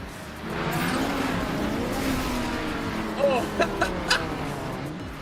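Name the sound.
race cars engines revving in a demolition derby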